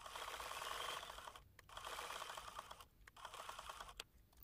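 Domestic sewing machine stitching raw-edge appliqué eggs in a basket quilt block, a steady close rapid whirring run that stops briefly twice and restarts, with no voices.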